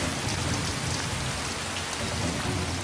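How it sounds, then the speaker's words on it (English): Driving monsoon rain pours down hard and close in a dense, unbroken hiss, with a low rumble of thunder underneath and no voices. "The driving rains,"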